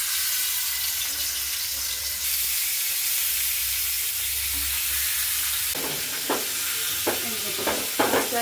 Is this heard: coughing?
no